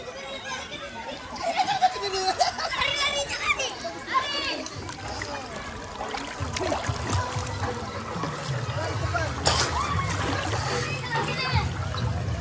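Children splash and shout in a large public pool in Bogor, with busy water splashes and overlapping kids' voices close by and people talking nearby.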